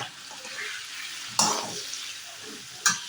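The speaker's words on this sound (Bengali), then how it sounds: "আলুটা ভাজা হোক" Potatoes frying in a pan with salt and turmeric make a steady low sizzle, broken by two sharp spatula stirs against the pan. No one speaks.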